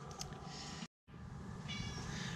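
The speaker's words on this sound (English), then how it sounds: "Oh, by the way, there's a cat." A house cat meows near a PC build setup, giving a few short tonal calls against a steady background hum, with a brief gap of silence partway through and no talking.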